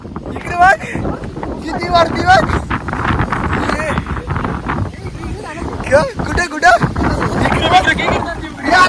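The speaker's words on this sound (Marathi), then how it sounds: "हवा इतकी आहे ना बेकार" Strong wind buffeting the microphone on a hilltop, a constant roaring rush with gusty swells, under frequent talking.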